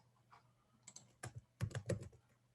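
Computer keyboard typing in a classroom technology setting, a few quiet scattered keystrokes followed by a short burst of quick clicks, close and alone.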